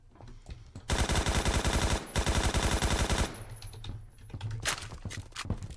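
AK-12 rifle fire in the video game Phantom Forces: two loud, rapid automatic bursts separated by a brief pause, followed by scattered single shots and faint clicks.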